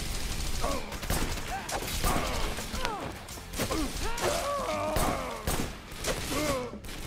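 Gunfire in the action game Wanted Dead at Kowloon Park, rapid bursts of shots with heavy thuds and impacts close up, mixed with grunts and mechanical clatter in a busy, continuous fight.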